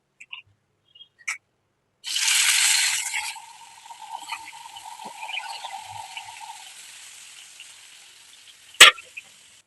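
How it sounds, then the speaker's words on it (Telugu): Whole brinjals dropped into hot oil in a pan for a stuffed-brinjal biryani give a loud burst of sizzling, which settles into a steady, softer frying crackle with a sharp clink near the end. "వంకాయల్ని నూనెలో కాల్చుకోవాలి కాబట్టి కొంచెం మగ్గిద్దాము వంకాయల్ని"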